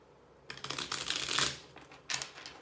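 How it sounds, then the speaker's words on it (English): Tarot cards are shuffled close up in a few quick riffling bursts, crisp and light, with a short pause before a final burst. "I'm sitting here just shuffling"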